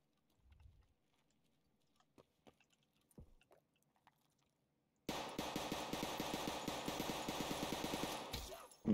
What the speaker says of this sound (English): Is that you shooting at me then?